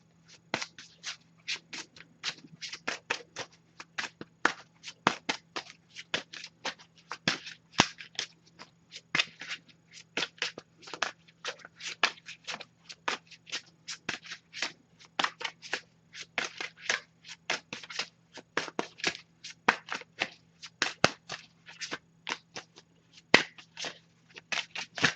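A deck of Messages of Love oracle cards is shuffled continuously by hand, with rapid, close, crisp riffling flicks in a steady irregular patter over a faint low hum.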